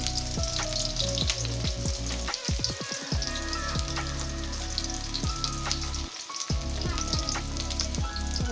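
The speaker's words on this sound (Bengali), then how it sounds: "তেলটা গরম হয়ে গেছে এখন আমি দিয়ে দিলাম এই রসুন কেটে রাখা রসুনগুলো দিয়ে দিলাম" Chopped garlic dropped into hot oil in a karai sizzles loudly and steadily at close range, with dense crackling spatter throughout and no voices.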